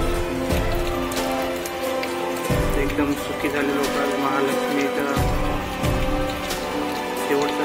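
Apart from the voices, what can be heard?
heavy rain falling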